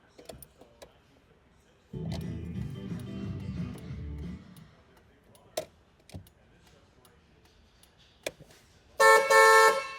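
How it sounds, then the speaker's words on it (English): A 1985 Alfa Romeo sounds its horn with a single loud, steady blast near the end, preceded by interior clicks, a stretch of low mechanical hum, and scattered ticks from the car's controls. "The horn works."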